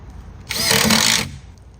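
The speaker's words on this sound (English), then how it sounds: "then we could just do the countersink on each side, and then just set your screws" A power drill driving a screw into tile backer board during a masonry install, one short loud whirring burst of under a second that rises and cuts off, close by with no talking.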